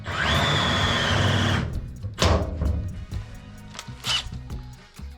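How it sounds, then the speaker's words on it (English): A cheap Timu power drill whirs at high speed for about a second and a half while drilling for bonnet pins, then cuts out, leaving scattered knocks and rattles of handling nearby. "Now my Timu drill is experiencing technical difficulties."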